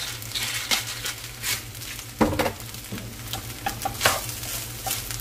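Crab paste fried rice made with crab fat and shrimp is stir-fried in a pan, giving a soft steady sizzle broken by irregular scraping and tossing of the spatula against the metal, with no talking.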